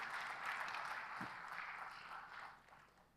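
Faint, distant applause from a conference audience welcoming a guest of honor at a closing address, a soft steady patter that fades near the end.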